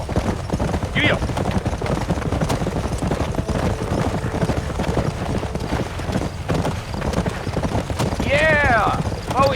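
Horse hooves clip-clop steadily at a trot in the Western video game Red Dead Redemption, a continuous rhythmic clatter running under a rider's voice and ambient game sound, with a brief whinny near the end.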